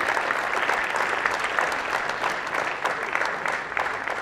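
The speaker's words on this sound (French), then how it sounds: "je crois que vous méritez tous nos applaudissements" An audience at a galette evening in Lannion applauds the organizers and volunteers with a steady, dense wash of clapping from many hands, held evenly at moderate volume throughout.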